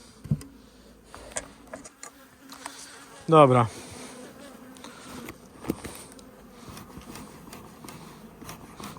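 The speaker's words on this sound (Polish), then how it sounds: "niestety pszczoły latają" Honey bees fly around an open hive during a late-summer August colony inspection, their buzzing a low, steady hum that swells into one loud close pass in the middle, with rustling and handling noises around it.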